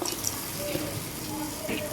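Small amount of water poured from a tap or container into a pan of small fish being cooked with calamansi juice, a brief steady splashing trickle lasting a couple of seconds, close and moderately loud.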